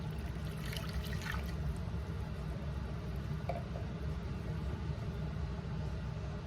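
Warm water pours steadily into a bowl for pizza dough, a continuous close trickle and splash over a constant low background hum.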